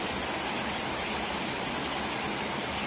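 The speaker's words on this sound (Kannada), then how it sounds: "ಹೊರ್ಗಡೆ ನೋಡು ಮಳೆ ಎಷ್ಟು ಜೋರಾಗಿ ಬತ್ತೈತೆ" Heavy rain falls outside, a dense and even roar of rain holding steady throughout with no voices.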